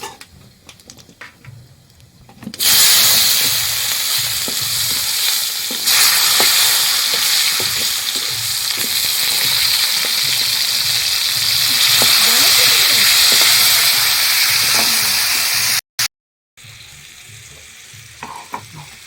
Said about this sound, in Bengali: পেঁপেগুলো ঢেলে দিয়ে দেবো আস্তে করে